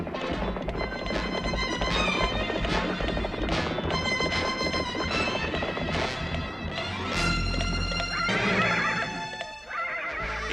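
Horse neighing loudly as riders dismount in an animated Western adventure, several close whinnies over busy music and clattering effects, with a brief crash near the end.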